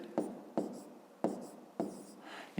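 A pen scratches across a notebook page in four short strokes with pauses between, close and quiet, while writing down a math exercise.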